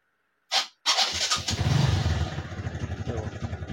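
A TVS Victor motorcycle in neutral cranks briefly on its electric self-starter, pauses, then catches and settles into a steady, close, moderately loud idle with a rhythmic single-cylinder chug.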